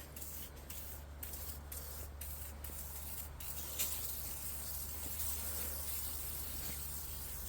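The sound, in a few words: WD-40 spray into snowblower chute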